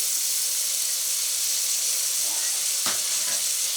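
Potatoes and peas, along with carrots, fry in hot oil for a vegetable biryani with a steady, close sizzling hiss. A couple of soft stirring knocks break in near the end.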